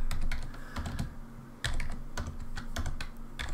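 Keys clatter on a computer keyboard in an irregular run of crisp, close clicks, with a heavier cluster partway through, while a low steady hum sits underneath.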